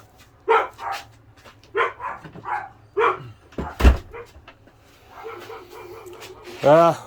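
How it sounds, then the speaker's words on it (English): A dog barks in short bursts in a room while someone talks about lathe backlash. The barks are fairly close and mixed in among his speech, ending with a higher whimpering yip. "my dog's in the background"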